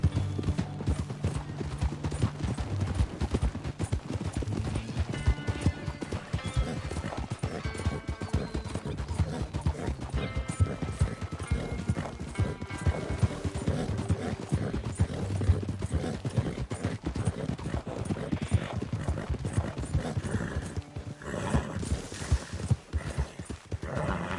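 A horse gallops with rapid, continuous hoofbeats in Red Dead Redemption 2, loud and close, with occasional whinnies and background game music running underneath.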